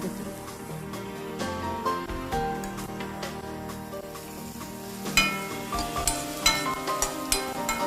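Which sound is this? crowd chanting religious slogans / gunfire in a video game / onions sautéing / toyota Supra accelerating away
onions sautéing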